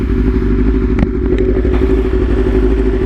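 A motorcycle running on E85 fuel idles steadily nearby, its low engine throb even and consistent with light mechanical clatter, without revving.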